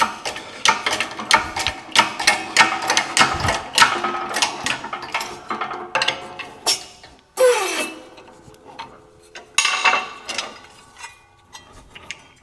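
Heavier gauge sheet metal being flared with hammered tool strikes for a rat rod core support mount, a fast irregular run of sharp close metallic knocks and clanks with brief pauses, loud and alone.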